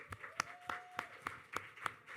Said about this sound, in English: So I need another round of applause for that.